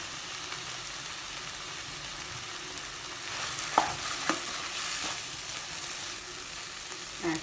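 Turnip and carrot bharta being stirred in a pan, a steady soft scraping mash with a low sizzle and a few sharper knocks of the spoon against the pan, close and alone with no voices.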